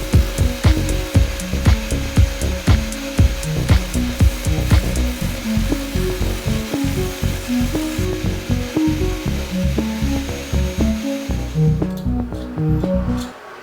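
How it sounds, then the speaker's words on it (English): A mini disc sander works a plastic robot part with rapid, rhythmic bursts of abrasive grinding, loud and close, with repeated short passes against the workpiece until it winds down at the end. "And for the finishing touches, my beloved mini disc sander."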